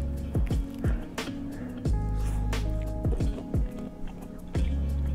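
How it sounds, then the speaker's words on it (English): Hot oil pops and spits around frying conch in scattered, irregular bursts, a few sharp crackles standing out over a low bubbling fry. "there's like a lot of water in the conch, because the oil is like popping"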